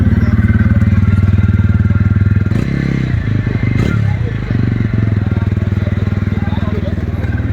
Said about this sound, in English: And that is how this particular motorcycle sounds.